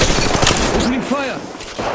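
Rapid bursts of gunfire ring out during an Apex Legends firefight, loud and close at first. A voice speaks over the shooting partway through.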